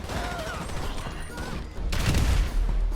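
Bursts of gunfire crackle in the distance over background noise during a casino heist in GTA Online, followed by a heavier rumbling blast near the end.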